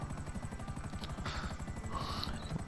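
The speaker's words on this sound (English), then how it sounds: "Tim, stay in the chopper for a second" Helicopter in a video game, rotor chopping in a steady rapid pulse throughout, close and continuous, with faint game effects layered on top.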